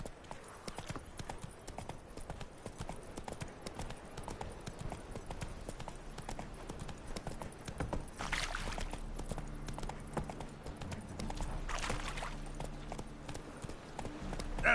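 Hoofbeats of Roach, Geralt's horse in the video game The Witcher 3: Wild Hunt, a steady clip-clop rhythm throughout over ambient game sound, with a low hum rising toward the end.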